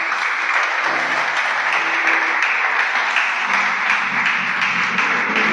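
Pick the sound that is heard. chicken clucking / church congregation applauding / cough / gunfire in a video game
church congregation applauding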